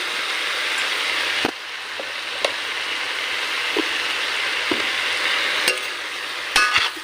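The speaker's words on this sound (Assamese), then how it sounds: "ভালকৈ ভাজি" Steady sizzling of spices frying in a pan, with occasional sharp clinks and scrapes of stirring.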